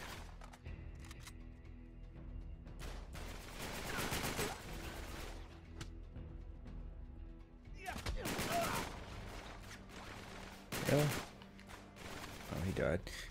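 Gunfire from the Uncharted 3: Drake's Deception video game, with dense bursts of shots and heavy impacts repeating in clusters throughout, loud and close, mixed with game sound effects.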